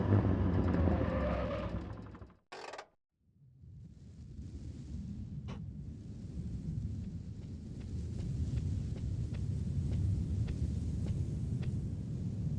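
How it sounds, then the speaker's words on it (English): Car engine in the Metal Gear Solid video game, a steady low rumbling drone that cuts out briefly after a sharp burst, then resumes as a continuous idle hum with faint ticking clicks. "That engine noise made it sound like we just arrived."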